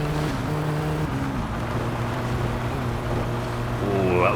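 In the My Summer Car video game, a truck engine drones loudly and continuously, its pitch wavering and shifting as it is pushed toward high revs, with no clear talk.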